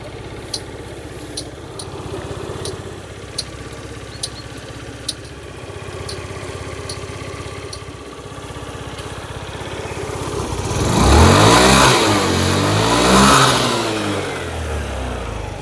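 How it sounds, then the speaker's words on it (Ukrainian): A Honda Dio AF68 scooter engine idles with a regular sharp ticking, then revs up twice near the end, pitch climbing and falling with each throttle blip. "Двигун працює без жодних нарікань."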